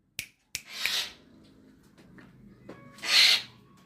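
A pet bird gives a few sharp clicks and then two bright, close chirping calls with a short gap between them, in a quiet room with no talking.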